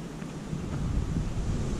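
Steady wind rushes and buffets against a microphone on an exposed hillside, a continuous low rumble with no clear gusts or voices.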